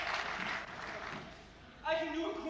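A crowd at a 1997 squash championship final in Qatar gives a spread-out round of applause and murmuring. Near the end a voice cuts in over the clapping.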